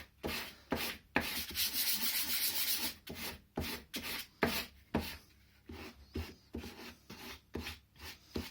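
Sandpaper rubbing back and forth over grey board comes through as soft, rhythmic scratchy strokes, close but fairly quiet, with short pauses between passes and no talking.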